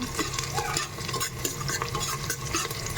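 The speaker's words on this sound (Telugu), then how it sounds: "ఇప్పుడు దీన్ని మరొకసారి మిక్స్ చేసుకున్నాము" Onions frying in a pan are stirred continuously, giving a dense scraping and sizzling texture at close range with a steady level and no speech.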